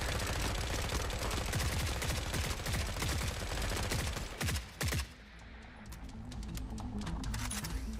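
Rapid, dense automatic gunfire in the video game Forever Winter: a loud sustained burst of shots that stops abruptly around the five-second mark, followed by scattered fainter bursts and distant shooting.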